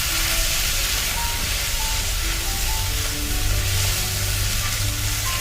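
Tomatoes fry in oil in a pan with a steady, dense sizzle that stays close and even for the whole stretch, with no pauses or talk.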